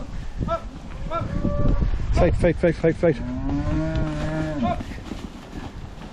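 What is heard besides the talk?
heifers mooing while being herded on a farm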